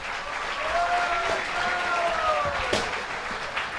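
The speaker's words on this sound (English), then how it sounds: "A round of applause for them once again." An audience at a Krishna devotional gathering applauds a singing group called Perfect Harmony after their performance. Steady clapping runs throughout, with faint tonal sounds and voices beneath it.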